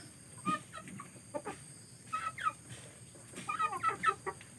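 Featherless chickens cluck close by in a series of short, irregular bursts, some quick and clipped, others in little runs, over a quiet background.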